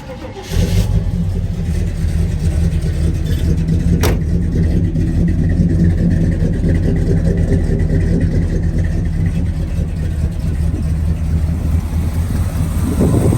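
A 1972 Chevrolet Chevelle SS with a 402 engine cranks and fires up after a brief start, then settles into a loud, steady, close idle with a deep rumble that continues to the end.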